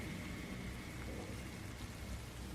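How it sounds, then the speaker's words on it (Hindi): Heavy rain pours steadily through a forest, a dense continuous hiss with low rumbling underneath, loud and unbroken with no voices. "जंगल में तेज बारिश हो रही थी, हर तरफ पानी की मोटी मोटी बूंदें गिर रही थीं।"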